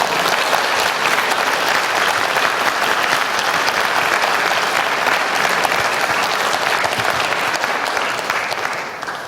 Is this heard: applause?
yes